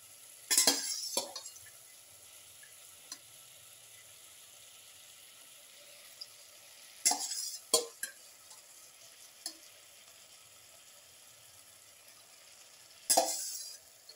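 Cleaned, deveined shrimp fry in a pan with a steady low sizzle, broken by three short bursts of stirring and utensil clinks near the start, middle and end.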